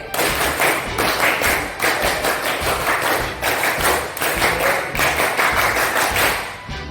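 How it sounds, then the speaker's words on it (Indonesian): A group performing the scout rhythmic clap twice in a row, loud clustered hand claps and thuds in a repeating pattern that pauses briefly between sequences, near and without speech. "Tepuk pramuka 2 kali."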